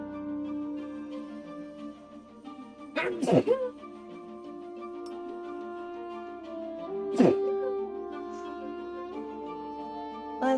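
Two sharp sneezes burst out several seconds apart over a steady background of layered tones and music, each a brief loud noisy spike standing out from the mix.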